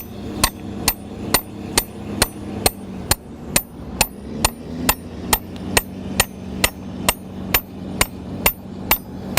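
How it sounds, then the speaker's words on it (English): Regular, evenly spaced metallic hammer blows drive a steel probe into compacted ground for a bearing test, about twenty sharp close strikes in steady rhythm, each ringing briefly with no voices. "we'll hammer that in"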